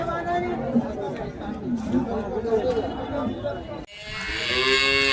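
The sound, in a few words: cow mooing at cattle market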